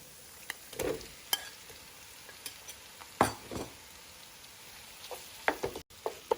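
Meat sizzles in a hot pan with garlic, onions and olive oil over medium-high heat. Irregular crackles and pops rise over a low frying hiss, with occasional stirring scrapes close by.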